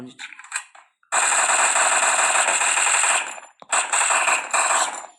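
Automatic gunfire from a shooting video game, two long rapid bursts separated by a short gap, loud and close, with a few scattered shots and faint background sounds before them.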